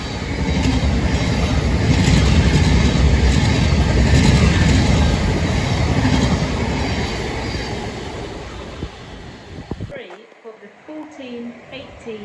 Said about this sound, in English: Next train to pass by is 700.